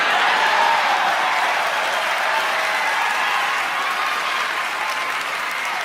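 A large Game Awards audience applauds and cheers in a loud, steady roar of clapping that holds throughout, with no clear speech on top.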